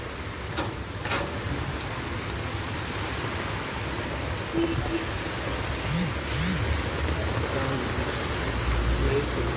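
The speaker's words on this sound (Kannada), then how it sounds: "ಮಳೆ ಬರ್ತಿದೆ" Steady rain falling outdoors, a continuous broadband hiss that holds level throughout, with faint voices and a few brief tonal sounds in the background.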